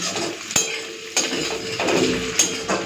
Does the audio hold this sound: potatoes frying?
yes